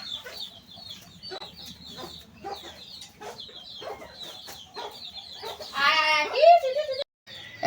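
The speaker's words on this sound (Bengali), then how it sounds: "মুরগিকে এখন খাইতে দিব।" Chickens in a village yard cluck steadily while being fed, the sounds rising into a louder flurry of squawks near the end, with faint voices murmuring beneath.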